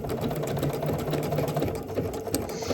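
A sewing machine running a zigzag stitch through swimsuit fabric, a fast, continuous mechanical whir with a steady rhythmic chatter, close and loud, with no voices.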